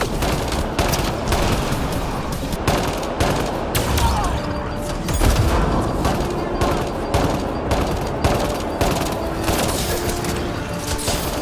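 Rapid gunfire from an automated turret in Mass Effect Andromeda, a dense, near-continuous clatter of loud shots running the whole time, with voices now and then under the barrage.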